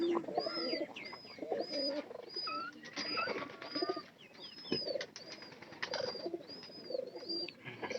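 Domestic pigeons coo softly and repeatedly in a loft, their low throaty calls overlapping with scattered chirps and faint wing movement in a quiet room.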